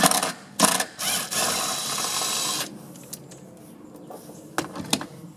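Ratcheting on a 12mm bolt holding the side pad of a car's rear seat, a few quick bursts of clicking up close that give way to quieter, intermittent ticks and metal clinks.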